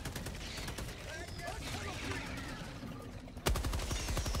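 Machine gun fire in Helldivers 2 rattles in rapid bursts amid explosions and game effects, with a loud, dense burst of shots near the end, while players talk over the action.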